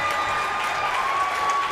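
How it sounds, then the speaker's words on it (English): Home crowd at a John A. Logan men's basketball Region 24 championship game against Vincennes cheering and applauding, a steady dense roar of clapping and voices filling the whole stretch at an even level. "The Logan crowd is starting to feel it."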